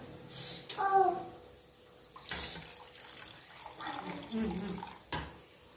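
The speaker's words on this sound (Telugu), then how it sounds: "నెక్స్ట్ మనం కోల్డ్ వాటర్ వేసుకుందాం." Cold water splashes and runs in short bursts as if poured into a container, with a person speaking in between.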